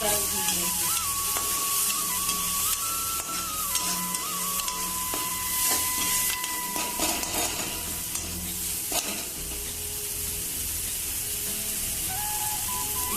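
Dry red chillies, turmeric and cumin fry in a pan for a Chhattisgarhi rakhiya badi curry, giving a steady close sizzle with scraping stirs and clinks throughout.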